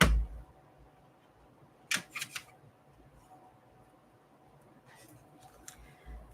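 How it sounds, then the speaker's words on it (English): Clamps being fitted onto a glued file folder lapbook, a loud clunk at the start followed by a few quiet, sharp plastic clicks and snaps spaced out over a near-silent background. "We'll put some clamps on it."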